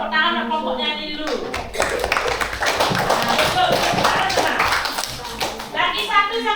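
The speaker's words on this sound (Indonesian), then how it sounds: "Nah, tepuk tangan kelompoknya ini dulu." A class of fifth-grade schoolchildren claps for a group in the classroom, a few seconds of dense, uneven applause that starts after the teacher speaks and fades as voices return.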